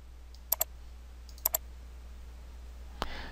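Two quick double mouse clicks, crisp and close, on a quiet computer desk while confirming OK in Adobe Dreamweaver CS6, followed by a faint rustle near the end.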